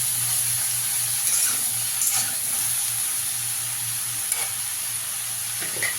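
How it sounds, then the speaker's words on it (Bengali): Sliced ridge gourd fries in a pan without salt, giving a steady soft sizzle with occasional stirring scrapes and clicks from a utensil. "এখন নুনটা দেবো না, এমনি ভেজে নেবো।"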